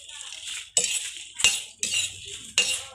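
Chillies dry-roasting in a pan for a traditional Thai chilli paste: a metal utensil scrapes and clinks against the pan in four or five sharp, close strokes, with a soft sizzle between them.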